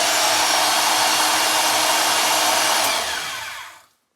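A Milwaukee 6230 portable band saw mounted on a stand runs steadily with a loud, even motor whine for about three seconds, then the trigger is released and it spins down to silence.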